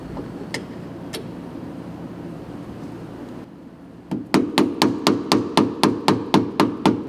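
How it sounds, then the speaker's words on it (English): A rubber mallet taps a sway bar link into the lower arm of a Polaris General XP 1000, about a dozen sharp, evenly spaced knocks at close range, coming quickly one after another after a few scattered earlier taps. "When you guys are going to install the link into the lower arm, we do recommend that you can use a rubber mallet."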